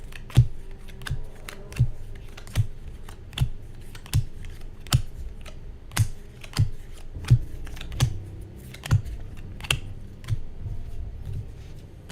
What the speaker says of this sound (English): Shuffle the items.